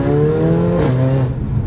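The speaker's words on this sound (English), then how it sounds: "Give us a bit of noise. Downshifting into second." Mercedes SLS AMG Black Series engine held loud and close, its steady growl dipping briefly as it downshifts into second gear, with no talk over it.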